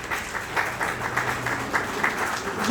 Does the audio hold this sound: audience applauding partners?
yes